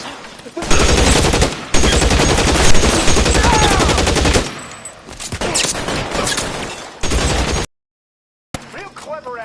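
Dense machine-gun and pistol fire bursts from the video game L.A. Noire, rattling loudly and near in long volleys with short gaps, mixed with shouted voices.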